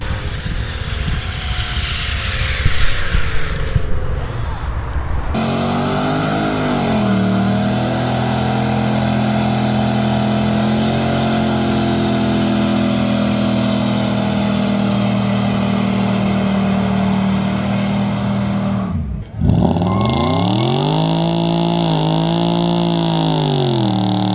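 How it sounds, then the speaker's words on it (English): A car does a smoky burnout at a Power Tour 2024 car gathering, its engine held at a loud, steady high-rev roar, briefly cutting out near the end before revving hard again. "watch cars do smoky burnouts"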